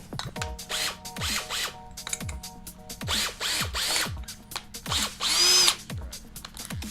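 A power drill whirs in repeated bursts, revving up and down as it bores holes while building a corner storage unit, with ratcheting clicks between runs and no talking.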